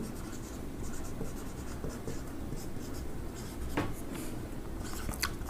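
A pen scratches steadily across paper as a formula is written out by hand during an economics lesson on order quantity, making a continuous close scratching with small pauses and no talking.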